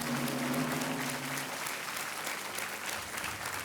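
Studio audience applause at a televised quiz show, dense and steady clapping filling the room from start to finish, alone without any talk.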